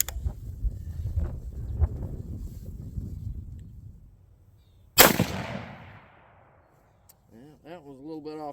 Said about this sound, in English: it's just a hunting rifle, but I think this thing's gonna shoot just fine